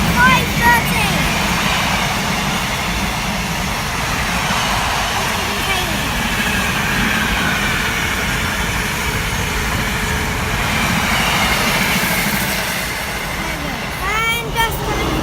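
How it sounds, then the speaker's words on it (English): A Class 66 Freightliner diesel freight locomotive and its train pass at Tamworth station, a loud continuous rumbling roar sustained for the whole stretch with broadband rail noise, fading slightly near the end. "The last train, well, one of the last trains of this video is a Class 66, a Freightliner."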